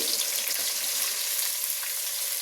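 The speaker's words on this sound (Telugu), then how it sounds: "ఉల్లిపాయలు కట్ చేశాను కదా అవేసాను ఉల్లిపాయలతో పాటే ఈ బంగాళదుంప ముక్కలు కూడా యాడ్ చేద్దాము" Potato pieces and onions frying together in a pan, a loud, continuous hiss and crackle of hot oil that stays even from start to finish.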